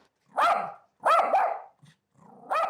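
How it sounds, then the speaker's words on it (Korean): A defensive, somewhat aggressive dog barks at strangers entering its space, giving three loud, close, harsh barks separated by short pauses, with a faint low growl between them. "자기를 보호를 하려고 지금 이렇게 짖고 살짝은 공격적인 성향이 보이는 친구거든요"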